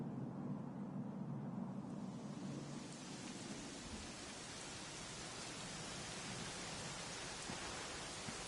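Rain falls in a Dragon Quest XI S game scene, a steady hiss of dense broadband noise that swells after a few seconds and then holds evenly, with no voices.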